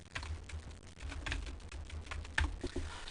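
Typing on a computer keyboard: a quick, uneven run of soft key taps up close, with a slightly louder keystroke near the end and no voices.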